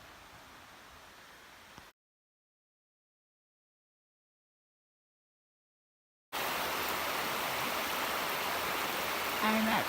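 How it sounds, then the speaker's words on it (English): Steady rushing water of Hetty Creek at a trail crossing in Georgia fills the air with a broad hiss, drops out to silence for a few seconds, then returns much louder and nearer. "I'm at the Hetty Creek crossing in Georgia Pinhoti section 30. There's another confluence down there."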